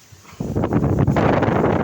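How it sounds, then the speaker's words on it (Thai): Strong storm wind roars loud and continuous, buffeting the microphone after a quieter start, with a broad rushing noise that swells and holds steady. "ดูลมครับ ลมครับ ลมครับ"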